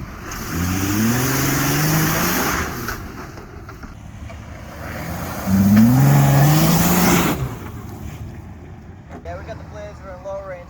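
A pickup truck on Prinx HiCountry HM1 mud-terrain tires drives through sand in two-wheel drive, its engine droning and revving close by in two rising surges, with speech faintly underneath.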